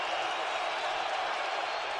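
Steady crowd roar fills the Metrodome, also called Mall of America Field, just before kickoff at a football game. A continuous dense wash of voices with no breaks.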